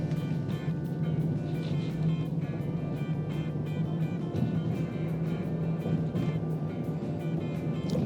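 Artificial motor sound from a Chevy Silverado EV RST on a test drive, a continuous low synthetic hum with a steady droning tone that holds level under faint road noise throughout.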